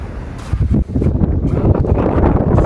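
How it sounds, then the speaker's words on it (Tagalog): Strong wind in Japan buffets the microphone in a loud, continuous rumbling roar with gusty fluctuations. "Lakas ng hangin."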